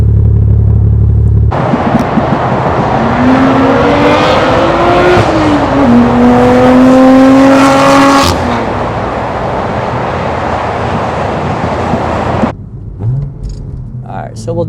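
A BMW M4 with the S55 engine and an Active Autowerke exhaust roars through a second-gear pull: loud, rising revs held for several seconds, then the engine settles into a lower drone before a sudden drop.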